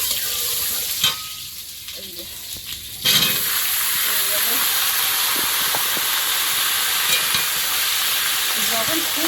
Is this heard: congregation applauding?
no